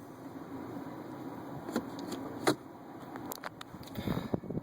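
A 2013 Nissan Leaf electric car pulls away on a school run, heard from inside as a quiet steady road rumble and whir with a few soft clicks and bumps rising slightly toward the end.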